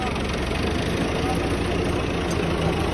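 A tractor engine idling close by as a steady low rumble with a faint knocking texture, unbroken for the whole moment.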